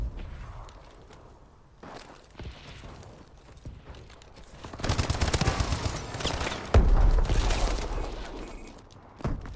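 Rapid automatic gunfire in the first-person shooter Call of Duty: Advanced Warfare, hardcore mode, comes in several dense bursts that swell loud through the second half, with scattered game sounds before them.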